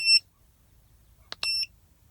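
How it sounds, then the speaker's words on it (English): Cheap handheld car diagnostic code reader giving sharp electronic beeps close by in a quiet room: one short beep, a pause, then a quick click and a longer beep, with no talking. "Maybe we can turn off that crazy beep"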